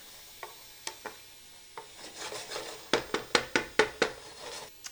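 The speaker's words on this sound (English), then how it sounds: "They're sauteing in our bacon and sausage fat." Diced green pepper sautéing in bacon and sausage fat in a pan, a soft sizzle under a run of sharp clacks from stirring, several in quick succession toward the end.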